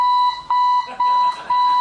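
An alarm clock beeps loudly in rapid repeating bursts of a steady electronic tone, pausing briefly between groups, with no voices over it.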